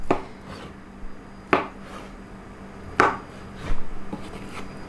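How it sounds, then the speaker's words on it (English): Vegetables are chopped into small cubes on a cutting board, three sharp knife strikes spaced about a second and a half apart, followed by a short burst of rapid chopping, close and clear. "just chop them up so they're little cubes"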